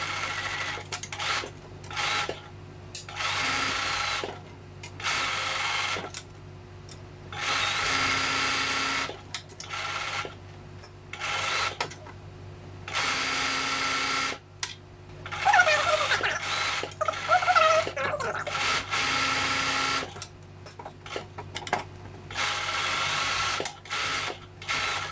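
A sewing machine stitches around a Japanese knot bag, working in repeated steady bursts of several seconds each, separated by brief pauses with soft clicks and handling noise, close and clear without talk.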